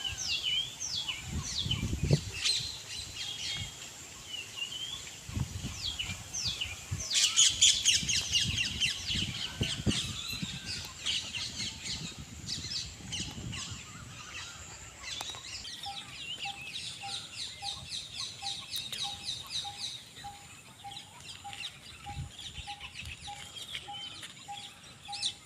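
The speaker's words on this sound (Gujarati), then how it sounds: "અહીંયા મોર અને ઢેલ બહુ બધી સંખ્યામાં આવેલા છે" Peacocks and peahens call from a garden nursery at Triveni Sangam, Tramba: loud, piercing cries and shorter honks repeat in scattered bursts at moderate distance, with softer chirps of other birds between them.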